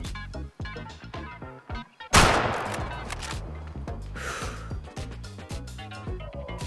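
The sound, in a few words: rifle gunshot hitting a bison in the video game Way of the Hunter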